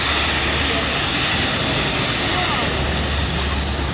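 An Airbus A380 with Rolls-Royce Trent engines taxis at the Farnborough Air Show, giving a loud, steady, broadband engine roar that fills the whole stretch, with a voice talking underneath.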